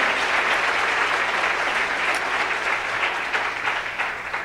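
A church congregation applauds loudly and steadily throughout, a dense wash of clapping from many hands with no speech over it.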